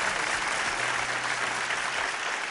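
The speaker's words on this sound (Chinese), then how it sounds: "再一次把掌声和敬意送给彭林先生" An audience applauds a lecturer, Peng Lin, at a televised archaeology talk, with sustained dense clapping filling the hall at an even level from start to finish.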